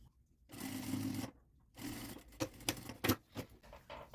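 A sewing machine stitches a zipper close to its teeth for a beginner's zip pouch: a short hum burst, a pause, then another run broken into uneven stops and clicks, close and fairly quiet, with no voices.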